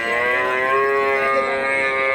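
A cow lowing at a busy cattle market, one loud sustained moo held for about two seconds, close by and heard on its own.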